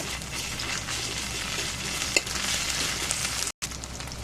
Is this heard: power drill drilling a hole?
no